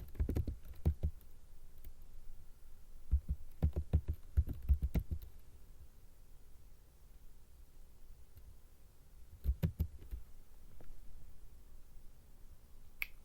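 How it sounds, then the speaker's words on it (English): Fingers type on a computer keyboard during an office database exercise: short quiet bursts of rapid clicking keystrokes, separated by longer pauses, heard up close. "Once I find it, I press backspace and I type what?"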